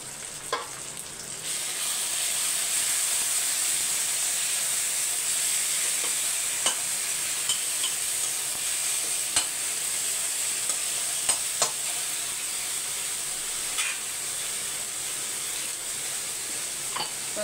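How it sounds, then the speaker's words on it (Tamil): Chicken thokku frying in a pan for biryani, a steady close sizzle with a spoon stirring through it and occasional light scrapes and taps against the pan. "நல்லா வதக்கி விட்டுருங்க"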